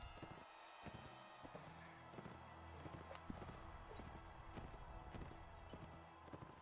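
Horse hooves galloping in Mount and Blade Warband, a steady rapid clip-clop running through the whole stretch over a constant background of game sound.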